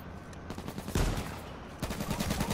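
Gunfire in the battle royale game H1Z1, rapid bursts of automatic shots in two clusters with a heavier crack near one second, loud and close, no talk over it.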